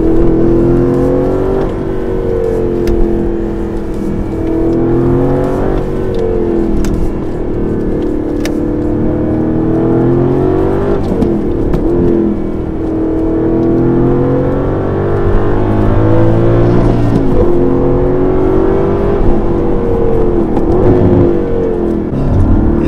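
Aston Martin Vantage AMR with a manual gearbox, its engine droning steadily and loudly with rising and falling revs as it accelerates through gears on a smooth road, no talking over it.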